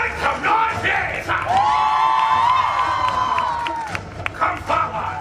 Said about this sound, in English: Make some noise, yes!